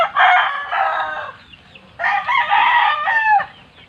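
Backyard chickens and a rooster on a farm, with two loud, close bursts of crowing and clucking separated by a brief lull.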